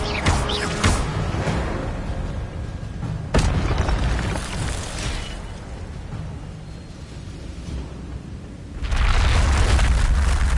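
An Incendio fire spell in a Harry Potter video game erupts in rumbling booms and whooshing bursts. A sharp crack comes partway through, then a louder roaring blast near the end, all close and full.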